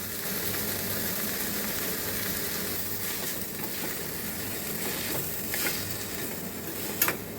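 Tomato and onion frying in a pan for green peas kurma, a steady low sizzle throughout with a few faint stirring scrapes and a small clink near the end.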